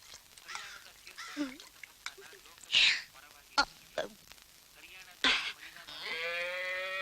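A cow moos several times, loud and close, in short bursts scattered between people talking in a comedic scene.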